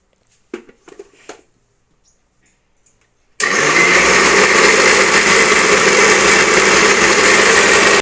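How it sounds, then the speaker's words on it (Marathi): A kitchen mixer grinder grinding dry-roasted coconut, a few quiet clicks and knocks, then the motor starts abruptly and runs at a loud, steady whine to the end. "मिक्सर आता लावता"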